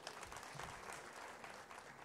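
A crowd applauds at a political gathering in Sangli, dense continuous clapping that holds evenly and fairly loud for the whole stretch with no speech on top.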